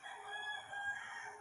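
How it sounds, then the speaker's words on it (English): An old rooster crowing on a backyard farm, a single sustained, somewhat distant call held steady for over a second, faint and with no talk over it. "crowing like an old rooster"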